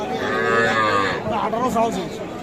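A young bull calf at a village cattle market (Raniganj haat) gives one long, close, wavering moo that breaks into a rougher second part, loud against faint market background.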